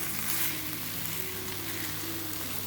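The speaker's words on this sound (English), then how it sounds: "Mix this well. and allow the bhindi to cook in the masala." Roasted okra cooks in a spicy masala while being mixed, producing a soft, steady sizzle and bubbling that stays faint and even, with no talking.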